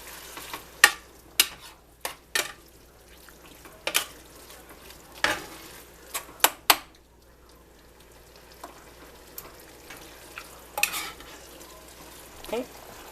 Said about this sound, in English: I'm just going to let it heat up. Stir those flavors in.